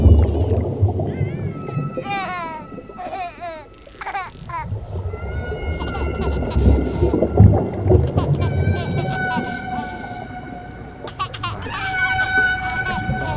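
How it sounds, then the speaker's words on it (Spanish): Whale song in a layered Audacity soundscape: long rising and falling moaning calls and upswept cries over a dense low rumble of water, with clustered chirps early and sustained tonal wails building through the mix. "justo ahí empezaba una ballena su canto"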